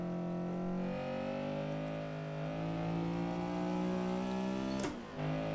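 A race car engine in the racing game Assetto Corsa drones at sustained high revs, its harmonic tone climbing and wavering, then dipping briefly near the end with a shift before pulling again; loud, close and continuous.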